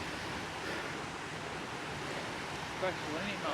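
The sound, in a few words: small waterfalls in the Scottish Borders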